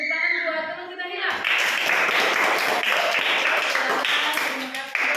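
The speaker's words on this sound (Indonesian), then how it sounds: "kita berikan tepuk tangan buat teman kita Hila." A primary school class of children applauding together, a dense, loud burst of clapping that starts after a short spoken line and carries on steadily for several seconds.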